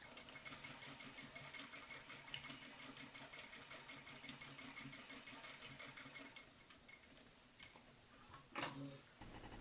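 A sewing machine stitches the center back seam of a medieval hood, whirring steadily and close for several seconds before slowing and stopping, with a brief handling rustle near the end and no speech.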